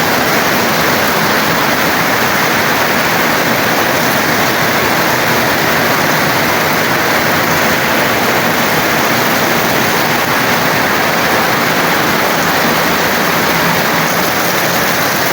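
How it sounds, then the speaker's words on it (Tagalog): Heavy typhoon rain from Typhoon Opong pours down in a loud, unbroken roar of dense broadband noise, constant and overwhelming for the whole stretch. "Ang lakas ng ulan."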